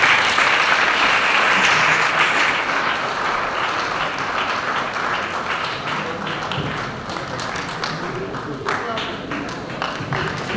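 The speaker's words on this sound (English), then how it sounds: "Please, can we all stand in as we give him a very wonderful round of applause." A large audience at a university lecture claps steadily throughout, with dense broadband applause fading slightly toward the end, while voices murmur underneath.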